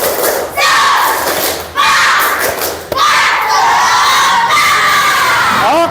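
An Indonesian school class claps a rhythmic spirit chant-clap, with children shouting along in loud, energetic bursts that pause briefly between rounds.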